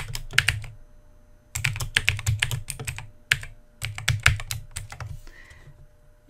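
Computer keyboard typing in bursts of quick, close key clicks with short pauses between runs, as text is entered and pasted into a word-processing document; no talking.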